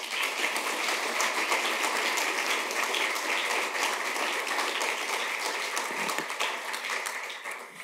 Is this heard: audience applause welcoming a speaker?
yes